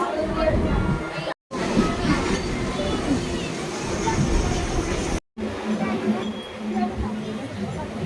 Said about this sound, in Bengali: তারপরেই আমাদের ট্রেনটা ঢুকে গেল